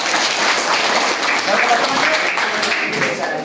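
Clapping from a group of students congratulating a classmate, a steady, fairly loud patter of hands that holds through, with voices faintly mixed underneath.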